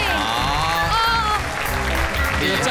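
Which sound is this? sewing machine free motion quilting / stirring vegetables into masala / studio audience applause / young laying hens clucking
studio audience applause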